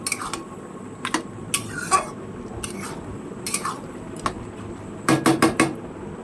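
A spoon scrapes and clinks around a pot of fish-head and bottle gourd curry in irregular bursts, closing in a quick run of four sharp knocks, with a low kitchen hum beneath.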